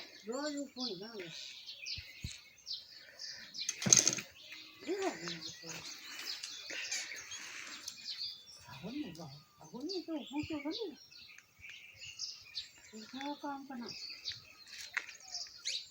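A parrot sits in a tree in a village on an evening after hail, while birds chirp in repeated short, rising calls at a moderate distance over outdoor background noise.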